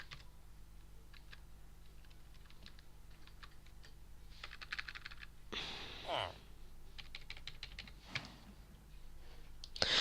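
Quiet keyboard typing in quick bursts of key clicks, with a brief rustle midway and a faint steady hum underneath.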